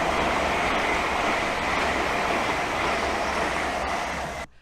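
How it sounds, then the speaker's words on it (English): A train passes on the northeast main line beside a caravan storage site, producing a loud, close, steady broadband roar for several seconds before cutting off abruptly, with no talking. "recording again because there's trains coming past"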